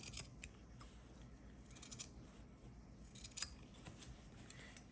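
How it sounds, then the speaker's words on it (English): Scissors snip through material for a Dollar Tree Halloween craft, quiet close crisp cuts in a few small bursts with pauses between, no talking. "We're going to cut this right as straight as you can."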